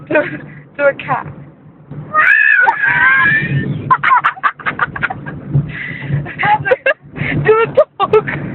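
A person imitates a cat's meow in a rising, drawn-out voice near the start, and other people talk and laugh throughout.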